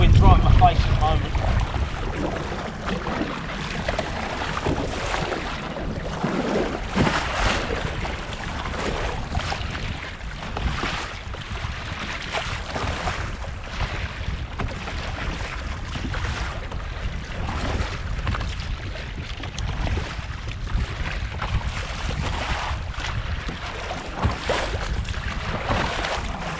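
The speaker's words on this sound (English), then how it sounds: "It would be a really easy paddle back in because the wind's right in my face at the moment." Steady wind roars across the microphone while paddling a kayak at sea off the Scottish coast, with gusty rushing noise and water sounds throughout and no clear speech.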